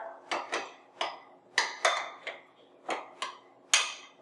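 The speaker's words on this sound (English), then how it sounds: "Stir it up." Ranch dip being stirred in a bowl with a spoon: a series of about ten sharp clinks and scrapes in an uneven rhythm, close by and fairly quiet.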